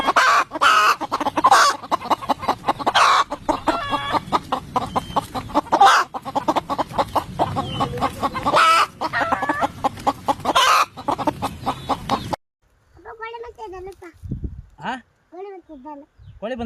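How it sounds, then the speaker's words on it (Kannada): Chickens cluck and crow among farm fowl, loud and close, with busy voices talking and shouting over them for most of the stretch before a quieter end with a few more calls. "ಕೋಳಿ ಬಂದದ"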